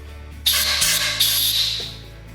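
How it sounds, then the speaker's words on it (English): Short bursts of compressed air blown into a freshly drilled hole in lathe stock to clear out chips, two or three close, loud hissing blasts that tail off. "I'm going to come in with just a little bit of compressed air"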